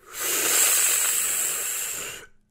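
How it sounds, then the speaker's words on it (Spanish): Someone slurps hot, sweet mint tea loudly, a single long airy sucking hiss lasting about two seconds, close to the microphone, with no talk. "Me gusta sorberlo con mucho ruido, así ajá."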